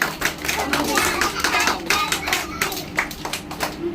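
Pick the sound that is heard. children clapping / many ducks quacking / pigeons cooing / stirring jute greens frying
children clapping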